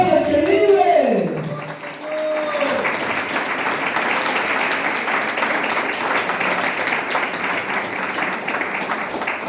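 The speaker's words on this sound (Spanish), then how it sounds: "Aplauda al que vive." A church congregation bursts into sustained applause during a Spanish-language sermon, dense steady clapping filling the room after the preacher's voice trails off at the start.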